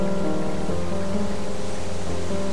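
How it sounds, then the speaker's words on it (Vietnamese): Heavy rain in an animated film pours as a loud, dense, unbroken hiss, with low tonal sounds running steadily underneath it. "mưa to thế này thì ai nhìn thấy gì chứ"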